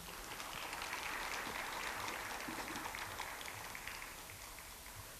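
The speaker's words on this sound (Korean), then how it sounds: "큰 박수로 맞이해 주시기 바랍니다." An audience at a municipal civil servants' academy lecture in Yeosu applauds as the mayor and a guest lecturer enter, a faint, distant wash of continuous clapping that thins out toward the end.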